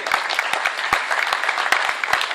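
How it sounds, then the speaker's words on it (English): Audience applause at a golden ball auction event held at Mont Vert Belbrook in Bhugaon, a steady dense wash of clapping with sharp louder claps standing out near the listener, continuous throughout. "Big round of applause for Mr. Mohammed."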